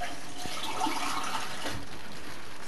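Water poured into a pot of pinakbet as it cooks, a continuous close splashing gush with no one speaking.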